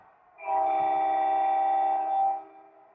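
A loud, steady model train horn blast with a harmonic chord, held for about two seconds before stopping, with no talking around it.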